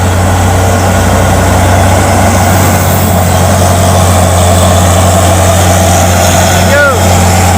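A Hino 500 truck's diesel engine runs with a loud, steady low rumble and throbbing hum throughout, close by, with a brief rising tone near the end.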